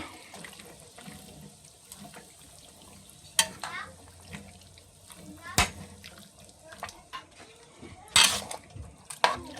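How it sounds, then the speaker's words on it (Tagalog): Octopus cooking in a pot with soy sauce is stirred, scraping clinks and wet sloshing with sharp utensil knocks against the pot, under intermittent talk. "So, haluin natin mga guys."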